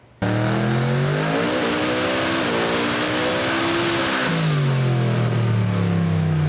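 Chevrolet Camaro drag race car engine, a scratch-and-dent unit, revving loudly and close up, its pitch climbing and dipping through several throttle blips before settling into a steady high roar, with no talking.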